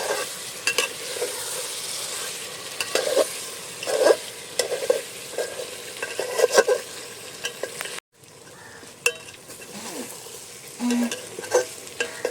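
Handi chicken being stirred and sautéed in a pan, close-up sizzling under repeated irregular scraping and clanking of a spoon against the pan, with a brief break partway before the stirring resumes.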